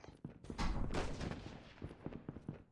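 A sniper rifle fires in a video game, a sharp close blast with a rumbling echoing tail, followed by fainter scattered crackling shots.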